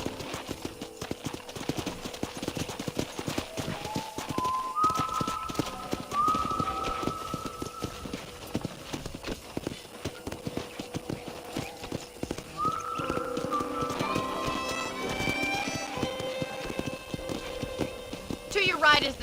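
Rhythmic clip-clop of horse hooves trotting steadily in Red Dead, with whistle-like tones and a horse whinny in places, with talk running underneath.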